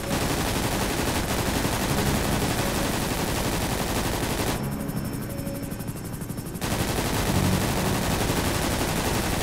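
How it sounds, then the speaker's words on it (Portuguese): Bursts of warning gunfire are fired at an aircraft in the video game GTA 5. Dense, loud automatic fire carries on throughout, with a brief dip in the middle before it resumes. "serão disparadas duas rajadas de aviso"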